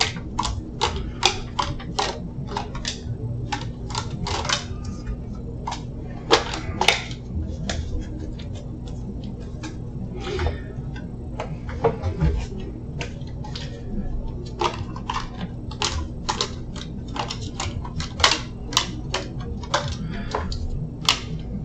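Tarot cards are shuffled and drawn in quick, papery flicks and light taps, repeated in irregular bursts throughout, with a low steady hum underneath and a voice speaking at times.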